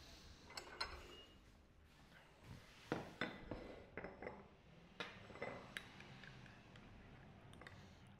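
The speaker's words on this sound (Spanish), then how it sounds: "Y me preocupo harto de también revolver bien." A spoon stirs espresso made from México La Perla beans in a cup, giving soft irregular clinks and taps against the rim, close and quiet with faint background between strikes.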